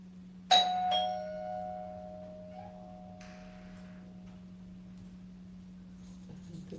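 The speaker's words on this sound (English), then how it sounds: "The bell was ringing." A doorbell rings once with a sharp, bright chime that decays slowly, followed by faint shuffling and a steady low hum in a quiet indoor room.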